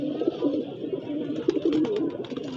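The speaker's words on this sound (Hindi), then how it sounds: "हमारी छत पर आकर एक कबूतर बैठा है" A pigeon perched on a house rooftop coos softly and repeatedly, with low, throaty, murmuring calls close by against quiet background noise.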